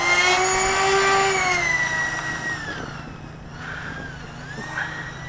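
A Dynam TurboJet RC jet at full throttle on its maiden flight in light wind, a steady high-pitched turbine whine with shifting tones as it passes, moderately loud and fading slightly.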